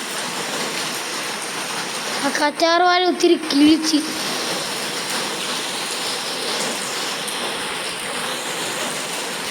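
Rain falling in a steady, even hiss that continues throughout, while a person speaks briefly near the start.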